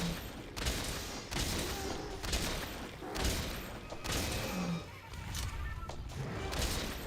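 Gunfire aimed at a monster's head in Monster Hunter: World, a dense, continuous run of thumping shots and impacts layered with game action.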